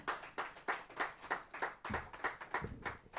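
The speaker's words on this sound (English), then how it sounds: "Please, a round of applause as she comes up." Rhythmic clapping from a small audience at a corporate ESG day event, about ten distinct beats spaced roughly a third of a second apart, steady and moderately loud, with no talking.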